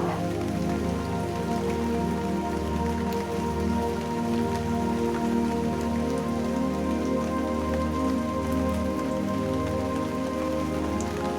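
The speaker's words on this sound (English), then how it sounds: "Visualize the rain falling." Steady rain pours down continuously, a dense, even hiss of drops striking a surface with no pauses or voices.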